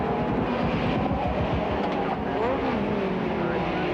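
1990 British Touring Car Championship race with a Vauxhall Cavalier touring car on track: a loud, steady roar of racing engines that continues without a break for the whole stretch.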